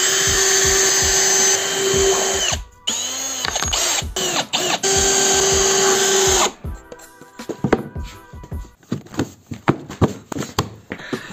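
A power drill drives screws into a wooden slant board, with a loud sustained whir that cuts out and restarts in short bursts, then a stretch of lighter knocks and handling clatter close by.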